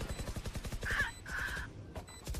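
Rapid gunfire in Valorant punches through a wall in a quick, steady rhythm of sharp shots, fairly faint and distant, with a few brighter tonal game cues layered over the shooting.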